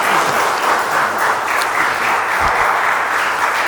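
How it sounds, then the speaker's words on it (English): An audience claps in a sustained, even burst of applause, welcoming a guest onto the stage at a live talk event. "Please give a massive round of applause and welcome Vir Das!"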